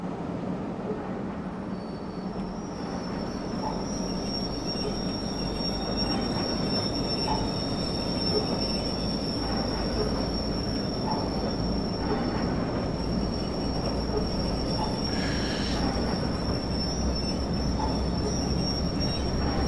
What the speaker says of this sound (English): let's see if we can get this train running again